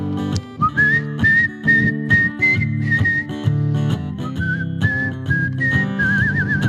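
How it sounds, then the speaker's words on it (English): A live concert audience whistles together in a loud, sustained, wavering melody over steady background music, without pauses. "Can you guys whistle?"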